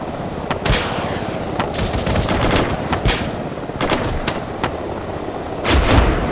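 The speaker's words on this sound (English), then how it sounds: "No, that was an autocannon." Autocannon fire in a military video game, heavy rapid bursts and single booming shots repeating throughout over constant battlefield rumble, loud and close.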